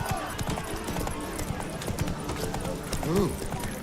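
Roach the horse gallops in The Witcher 3, steady clip-clop hoofbeats running close throughout under game music, with a short whinny-like call near the end.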